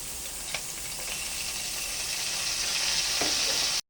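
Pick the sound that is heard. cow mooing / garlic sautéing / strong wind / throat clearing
garlic sautéing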